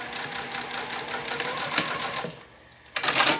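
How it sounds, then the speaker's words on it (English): A sewing machine top stitches down both sides of a tote bag seam, a fast even mechanical rattle running close and steady, then a brief pause before the stitching starts again. "then top stitch down both sides of the seam to tack down that seam allowance."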